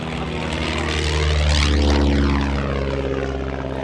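At an air display at Shuttleworth, a propeller aircraft drones past close by. Its engine note swells to a peak and then falls away, with a clear pitch shift as it goes.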